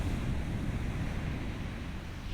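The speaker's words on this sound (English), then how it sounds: "The room is quiet, with only the sound of waves dictating the scenery" Ocean waves wash in a continuous, broad rushing roar, steady and fairly close, with no voices or other sounds over it.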